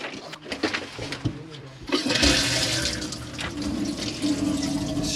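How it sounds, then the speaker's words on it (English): Hot water runs steadily from the tap of an Auto Trail Tracker EKS motorhome, with the water pump working. The flow is close, loud and continuous, and it surges stronger partway through. "hot water's working. As you can see, the steam there, and the water pump is operating as it should."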